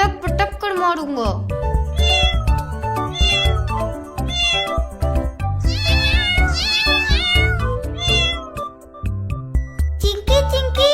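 Several kittens meow repeatedly in high, insistent cries, close and loud, over busy background music and scattered voices.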